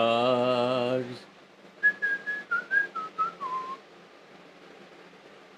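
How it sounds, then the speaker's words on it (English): After a brief sung note, a person whistles a short tune of roughly eight notes stepping downward, each note distinct and fairly quiet, in an otherwise hushed indoor room. "You know how I don't like whistling?"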